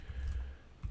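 Quick typing on a computer keyboard, a brief burst of close soft key clicks and thumps lasting under a second, with no voice over it.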